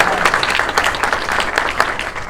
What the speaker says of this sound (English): Round of applause for Maja, guys.